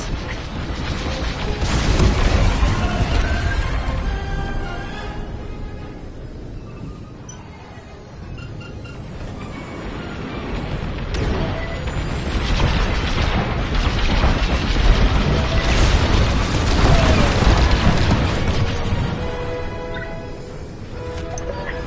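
Starships explode in a space battle in the Star Wars Squadrons video game, with continuous loud roaring blasts, engine rumble and mechanical clatter layered together, and occasional radio voices under the din.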